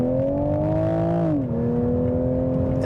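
A 2023 Toyota Supra Premium 3.0 accelerates with a steady, smooth engine drone. Partway through, the pitch dips as if shifting gear, then settles and climbs again, close and continuous with no talk.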